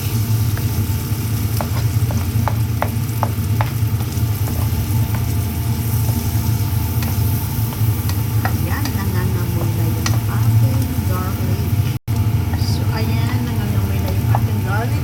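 Lots of garlic sizzling in butter in a pan for butter shrimp, a steady close frying hiss with a low continuous rumble underneath and occasional clinks of a utensil.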